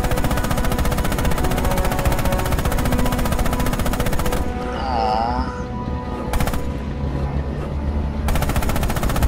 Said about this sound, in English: Open fire with the coax MG on those targets.